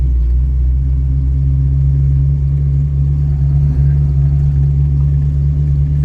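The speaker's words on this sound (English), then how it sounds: "And here we are just driving in first gear." A car with a manual transmission rolls along in first gear, its engine giving a steady, loud low rumble and drone that holds constant throughout with no voices.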